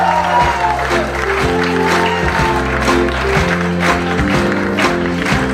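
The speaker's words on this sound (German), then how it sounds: "Einen herzlichen Applaus" A festival audience at a Basel carnival band performance applauds the band leader, with steady clapping and scattered cheers from a close, lively crowd.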